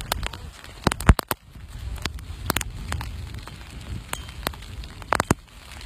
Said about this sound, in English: It's pouring with rain, windy, a bit of thunder, a bit of lightning.